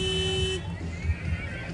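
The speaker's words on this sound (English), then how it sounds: "Here's Cory honking his horn at all of the delighted runners" A car horn honks in one steady blast for about half a second while a man named Cory drives past runners at the Cherry Blossom 10-miler, followed by road and engine rumble.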